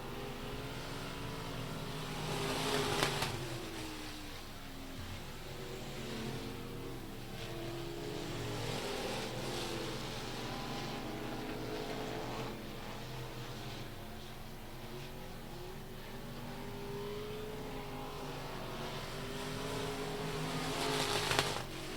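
Race cars roaring around the oval at Rocket Raceway Park, engine notes swelling and fading as the pack passes through the turns, heard from a distance with surges in volume and no talk.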